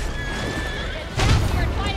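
A horse neighs with a high, wavering whinny, followed by a heavy thump and snort-like burst, close and clear amid game background noise in Stranger of Paradise.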